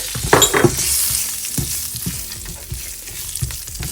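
Dry red chillies and curry leaves dry roast in a pan with no oil. Scattered crackles and pops come close to the listener, with scraping stirs between them.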